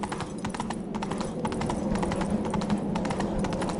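Hoofbeats of Roach, a horse in The Witcher 3 video game, drum in a quick, even galloping rhythm, close and clear, with no voices over them.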